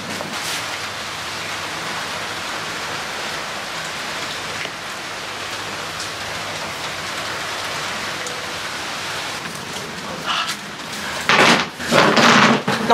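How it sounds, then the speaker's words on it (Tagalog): Steady rain falling and pattering on surfaces, a continuous hiss throughout that swells into heavier, louder bursts near the end. "umulan na."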